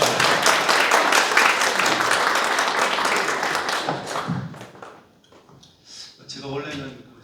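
An audience at a Korean forum on medical AI and electronic records claps steadily for about four seconds, then the clapping dies away and a voice speaks close to the microphone.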